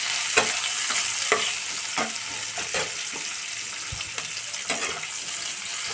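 Chopped onion fries in a pan with salt and turmeric, a bright continuous sizzle broken by repeated scraping stirs and occasional utensil knocks, close and fairly loud, with no voices.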